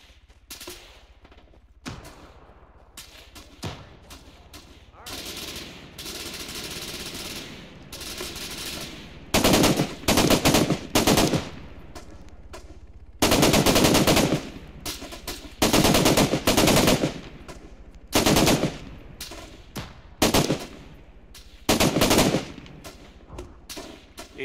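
Heavy automatic machine-gun fire from a combat match in the video game ArmA 3 (Global Mobilization, winter 1990s setting), rattling in loud sustained bursts with short pauses, over a lower rumble of battle.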